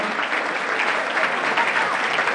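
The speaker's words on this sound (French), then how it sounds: "Est-ce qu'on peut applaudir mieux que ça?" Dense, sustained crowd applause at a Made in Congo event debriefing with a government minister, a continuous wash of many hands clapping at even loudness throughout.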